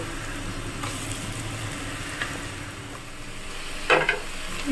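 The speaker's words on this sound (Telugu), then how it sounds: "ఇప్పుడు దీంట్లో నేను కట్ చేసి పెట్టుకున్న ఆనపకాయ ముక్కలు వేస్తున్నాను" Bottle gourd pieces added to oil with chana dal fry in a pan, a steady soft sizzle with a few stirring scrapes and a brief clatter near the end, heard alone without talk.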